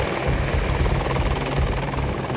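Helicopter rotor and engine noise, steady and loud throughout, a dense throbbing roar used for risky cable-line work in Minas Gerais, Brazil, with no voices.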